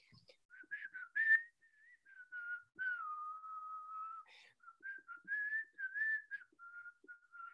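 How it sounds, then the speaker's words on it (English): One person whistles a melodic tune alone, in clear sliding notes with short phrases and pauses. The sound is close but fairly quiet, with no talk. "Whistle it. I'll whistle the one from that video."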